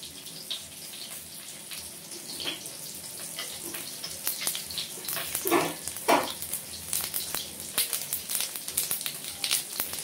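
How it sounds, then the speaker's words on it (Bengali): Cumin seeds tempering in hot mustard oil, crackling and popping in irregular bursts over a faint steady sizzle, growing busier and louder toward the end. "এখন আমি এখানে সরষের তেল দিয়ে দিলাম, আর একটু জিরে ফোড়ন দিয়ে দিলাম"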